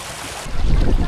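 The Agos River flowing at Sitio Manggahan, Daraitan, a steady broadband rush of water that swells louder and fuller about halfway through and holds there to the end, with no voices.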